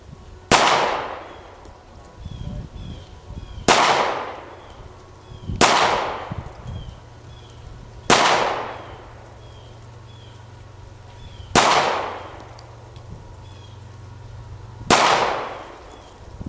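Six sharp pistol shots from a Kahr K9 fired at 5 yards, each a loud close crack with a short ringing decay, spaced roughly two to three seconds apart outdoors.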